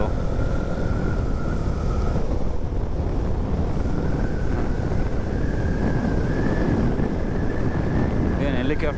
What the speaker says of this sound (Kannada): ಹೆಲಿಕಾಪ್ಟರ್ ಲ್ಯಾಂಡ್ ಆಯ್ತಾ